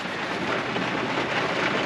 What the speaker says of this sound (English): And now it's pouring.